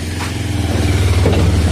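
A motorcycle being brought inside through a heavy gate, its engine running low and steady nearby, loud and continuous for a brief moment.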